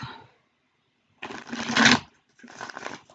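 A tarot card deck is shuffled by hand in two bursts of crisp riffling flutter, close and clear, separated by a short quiet pause.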